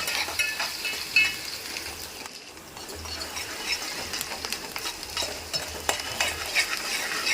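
Onions and green chilies being stirred in a hot pan, a soft continuous sizzle with scraping spatula strokes against the metal, close and steady without any voices.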